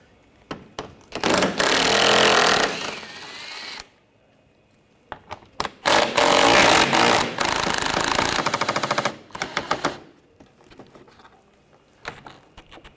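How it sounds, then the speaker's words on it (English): Bolts come out of a Honda Pilot V6 under an impact tool on a 10mm socket, loud close bursts of rattling hammering separated by short pauses. "Now using a 10mm socket, we're going to take these bolts out."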